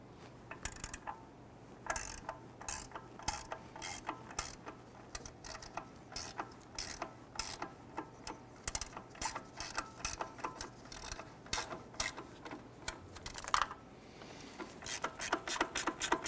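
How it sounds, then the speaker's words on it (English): A 14mm gear wrench ratchets steadily while loosening the upper torque strut bolt on a 2012-2017 Toyota Camry, producing a long run of quick, close metallic clicks in uneven bursts with brief pauses between strokes. "Using our 14mm gear wrench, we're going to go ahead and loosen this bolt here on our upper torque strut"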